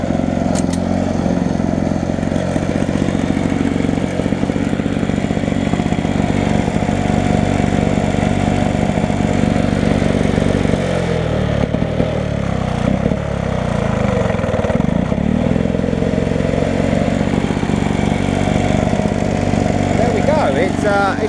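A vintage Masport Iron Horse two-stroke lawn mower engine runs loudly and close, a steady rough putter with clattering, wavering briefly midway, with a voice speaking over it.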